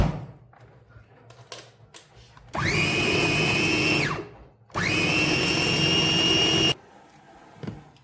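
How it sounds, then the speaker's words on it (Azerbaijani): An electric grinder chops a homemade flour halva mixture in two loud sustained bursts, each a couple of seconds long and high-pitched, separated by a short pause, with quieter kitchen handling sounds before and after. "İndi isə xırdalayıcının içərisinə əlavə edəcəm ki, hər biri eyni formada olsun."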